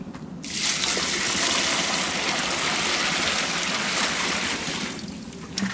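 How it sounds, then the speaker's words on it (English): Rainwater pours steadily into a compost bath, a broad rushing splash that starts abruptly, holds for several seconds, then eases off near the end. "And then we add the water."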